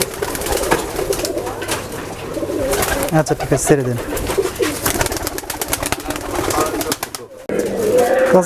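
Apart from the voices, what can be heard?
Giribaz pigeons cooing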